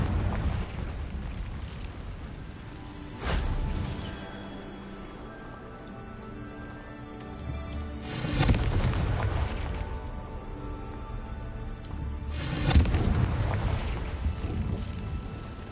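Confringo fire spells go off in Hogwarts Legacy as three loud whooshing blasts, spaced a few seconds apart, each trailing off into a rumbling roar over ambient game sound.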